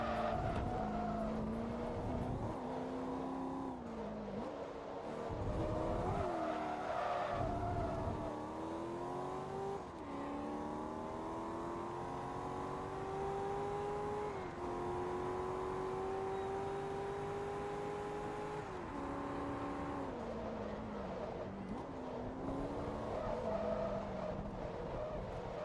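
Corvette race cars racing in Forza Motorsport 2, engines droning and rising and falling through gear changes, with brief tyre squeals, a steady close engine note throughout.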